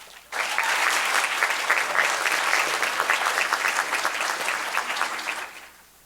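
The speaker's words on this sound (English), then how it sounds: "Let's give Faith another round of applause." An audience at a school board meeting applauds a National Board Certified teacher: dense, sustained clapping starts abruptly, holds steady for about five seconds, then fades away.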